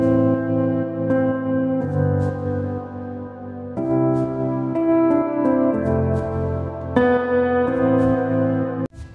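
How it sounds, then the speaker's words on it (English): Piano chords treated with reverb and EQ, no kick drum, ring out in a slow loop, each chord struck cleanly and left to sustain into a spacious, ambient tail, close and full. "And now the piano sounds like this, without the kick this time."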